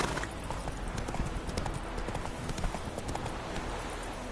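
A horse gallops in The Witcher 3 video game, its hooves drumming in a rapid, continuous clip-clop close by, with a faint voice briefly in the background.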